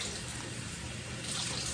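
Water pours steadily into a soup pot on the stove, a continuous splashing rush with no talk over it.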